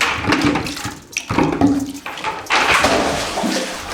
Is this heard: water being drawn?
yes